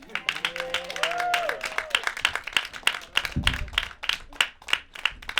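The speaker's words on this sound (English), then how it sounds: "Clap it up one more time for Mr. Roger Dad." An audience at a comedy show claps and cheers after a set, with dense applause running throughout, briefly overlapped by a voice near the start and a low thump midway.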